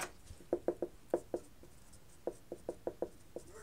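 Chalk or marker strokes on a board during a maths lesson, a quiet series of short taps and scratches in two bursts with a brief pause between, no voices.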